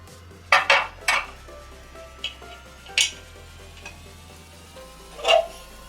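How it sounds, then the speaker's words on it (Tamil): Sambar is moved into a bowl with a handful of sharp metallic clanks and scrapes of a ladle against pots, spaced irregularly over a low steady background hum, with no talk. "நம்ம சாம்பாரை பவுலுக்கு மாற்றுவோம்"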